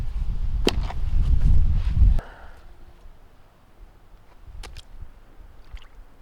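Feelmax Kuuva 2 boots plunge into water with a loud churning slosh and sharp splashes, then the water settles to quieter gurgles and drips.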